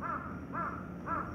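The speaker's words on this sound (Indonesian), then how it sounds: "kenapa ada suara burung gagak?" Three loud crow caws repeat at a steady pace, about half a second apart, close and clear with no talking.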